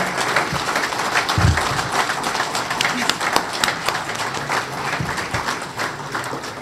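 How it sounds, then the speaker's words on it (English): Audience applause after a business talk on trade between Ontario and Türkiye, a broad continuous wash of many hands clapping with a few sharper claps standing out, steady throughout. "Can I please get a big round of applause"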